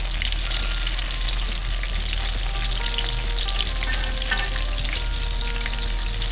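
Jamaican saltfish fritters with onion and scotch bonnet pepper frying in hot oil, a loud continuous crackling sizzle close up, steady throughout with faint stirring movement.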